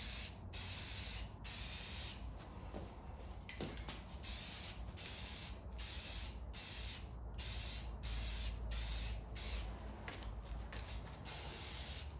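An aerosol can sprays a light first coat of paint onto car headers. About a dozen short hissing bursts of roughly a second each follow one another with brief pauses between them.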